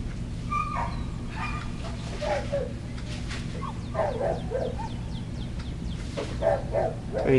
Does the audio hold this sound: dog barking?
yes